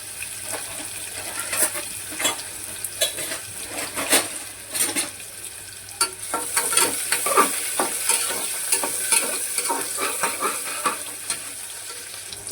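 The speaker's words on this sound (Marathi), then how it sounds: "आपला कापलेला हा कांदा आणि ही लवंग आणि ब्लॅक पेपर ते पण टाकून घेतलं. आणि याला मस्त असं छान सॉटे करून घ्यायचं" Chopped onion sautés with cloves and black pepper in a pan, a steady sizzle broken by repeated scraping and stirring strokes, close and clear with no voices.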